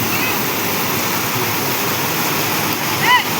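Water rushing over a small, brim-full village dam in the Konkan countryside, a steady, loud, close roar of flowing water that fills the whole clip with little change.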